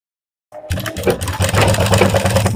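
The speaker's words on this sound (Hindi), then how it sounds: "इस तरह से सिलाई कर लेंगे।" A sewing machine stitches a folded one-inch strip of blouse fabric, starting abruptly and then running as a steady, fast, close mechanical whir with a rhythmic pulse.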